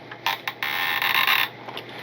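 Foam wing halves of an FMS Ranger RC plane being pressed and snapped together, giving a close, brief cluster of creaky, squeaky plastic-foam friction noises, with no voices.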